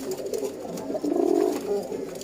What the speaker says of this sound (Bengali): কিভাবে ডাকাডাকি করতেছে ভিউয়ার্স